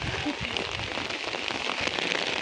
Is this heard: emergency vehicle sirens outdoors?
no